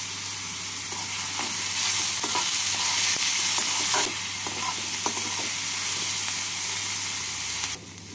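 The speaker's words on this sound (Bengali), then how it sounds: "অল্প নুন দিয়ে এগুলোকে ভেজে নেব।" Chopped capsicum and green chilli frying with salt in a pan, a steady loud sizzle with intermittent spatula scrapes and stirring knocks throughout, no talking.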